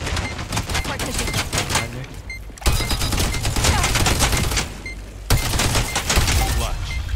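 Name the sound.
gunfire in a first-person shooter video game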